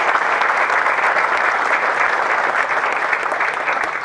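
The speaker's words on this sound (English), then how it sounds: "I would like to start off with a mutual applause" Sustained crowd applause at a ribbon-cutting ceremony, dense and steady clapping from a large audience that continues evenly at full volume throughout.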